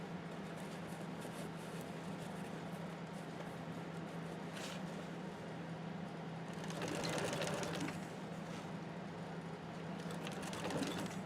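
A sewing machine stitches a bucket backpack with a steady, faint mechanical hum and rapid needle clatter that swells and eases as the fabric is guided, with no voices.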